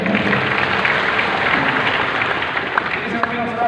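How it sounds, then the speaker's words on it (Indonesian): A church congregation bursts into loud applause during a sermon, a full, steady spread of clapping with voices and cheers mixed into it throughout. "Tepuk tangan yang paling meriah."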